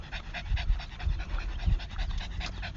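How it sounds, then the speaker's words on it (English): A dog pants in quick, steady breaths close by, the rhythmic huffing continuing without a break and heard alone. "my dog out here making all this noise."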